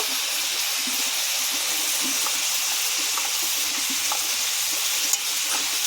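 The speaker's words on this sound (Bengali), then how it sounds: "একটু ভাজা ভাজা করে নিয়েছি পেঁয়াজের সঙ্গে মাংস" Chicken pieces with onion fry hard in a pan, a loud constant sizzling hiss with faint stirring knocks and occasional pops throughout.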